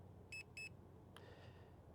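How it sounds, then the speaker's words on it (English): Two short electronic beeps in quick succession from a Hubsan Ace Pro drone controller, followed by a fainter single blip, in a quiet room. "Hold that function button down and it'll stop the beeping."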